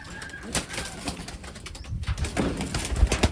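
Taiwan breed pigeon hen cooing in a loft, soft low murmuring coos at close range amid faint rustling and background noise.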